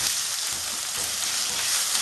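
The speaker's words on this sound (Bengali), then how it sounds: "পেঁয়াজটা একটু লাল লাল করে ভেজে নেব" Onions sizzling steadily in a pan for a chilli paneer dish, a dense, even crackle of frying oil that continues without a break and with no voices.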